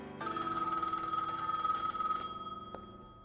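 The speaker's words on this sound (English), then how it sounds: "The phone rings" A telephone rings alone and fairly loud, one sustained electronic bell trill lasting about two seconds, then it cuts off and a brief click follows.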